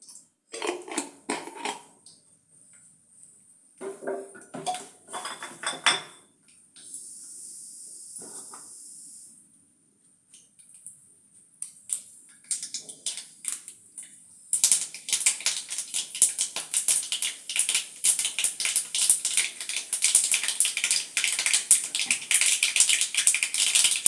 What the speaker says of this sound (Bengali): তেলটা গরম হয়ে গেছে, এর মধ্যে আমি সর্ষে ফোড়ন দিয়ে দিচ্ছি।